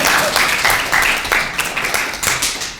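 An audience applauds after a lecture by a diplomat, given to students during a live question-and-answer session. Many hands clap together in a loud, continuous stretch, with no talk over it.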